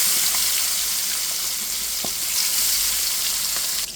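Koi fish frying in hot oil in a wok makes a loud, continuous hiss of sizzling with scattered small pops and crackles, close up and without voices.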